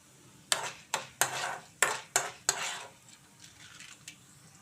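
Ingredients for ginger chutney are stirred and fried in a pan, browning gently. Six sharp scraping clacks of a spoon against the pan come in quick succession over a low sizzle, then fainter scrapes trail off.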